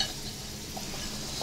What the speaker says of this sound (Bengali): পাতলা কড়াইতে চিংড়ি মাছগুলো ভাজতে দিয়ে দিছে